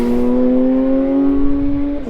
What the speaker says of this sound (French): Tu l'entends gueuler la voiture là